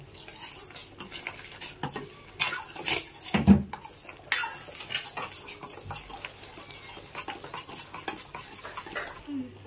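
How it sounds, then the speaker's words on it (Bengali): Food colouring being stirred into a grape jelly mixture in a pot, steady scraping and clinking of a spoon against the pan with a few sharper knocks, close and continuous, no talking. "তো এটার সঙ্গে দেখুন এটা ঢেলে দিচ্ছি আমি। দিয়ে ভালো করে একটু নাড়িয়ে নেব।"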